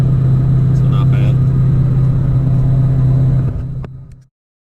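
A car engine cruising in sixth gear at about 1900 RPM gives a steady, loud low drone with constant road rumble, then fades and cuts out near the end.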